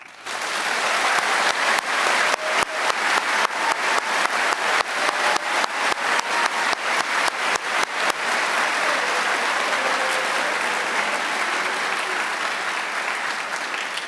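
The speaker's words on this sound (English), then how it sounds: "Please join me in a tremendous round of applause for your cadet leadership." A large graduation crowd at West Point gives a sustained round of applause for cadet leadership, heavy continuous clapping with a few louder rhythmic claps standing out, holding strong before easing slightly toward the end.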